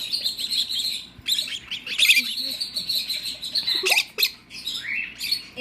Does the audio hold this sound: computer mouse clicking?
no